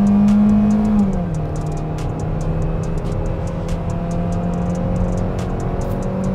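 A Hyundai Venue Limited B-SUV with an automatic gearbox accelerates at full throttle, its engine drone loud and steady, rising smoothly in pitch after a brief early shift, under continuous road and tire roar.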